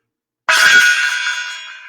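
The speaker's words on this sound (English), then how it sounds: "This gong's for you." A gong is struck once after a moment of silence, giving a bright, loud crash that rings on and slowly fades.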